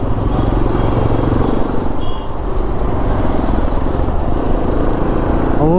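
A Hero XPulse 210 motorcycle is ridden on throttle, its engine droning loud and steady close to the rider while wind roars over it, with a brief dip in the middle and no speech.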